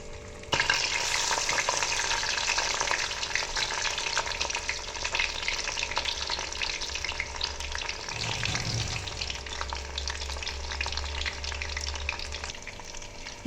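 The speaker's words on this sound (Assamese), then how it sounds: "এতিয়া এইখিনি দুটামান ফ্ৰাই কৰি থ'লোঁ" Pieces of banana flower frying in hot oil, a dense, continuous crackling sizzle that stays loud and close throughout, with a low rumble joining partway through and no voices.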